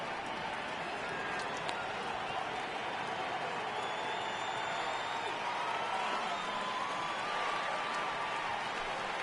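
A baseball video game crowd rises on a full 3-2 count, producing a steady, broad stadium roar of murmuring and cheering with no clear breaks.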